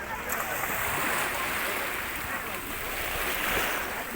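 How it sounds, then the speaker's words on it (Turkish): Sea waves washing ashore at Bodrum in the evening, a steady broadband surf hiss with gentle swells, close and continuous, with faint murmuring in the background. "Akşam vakti çok güzel deniz."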